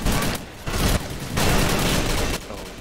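Bursts of rapid gunfire from the Combat Arms shooter game, loud and close, coming in several dense volleys with short gaps between them.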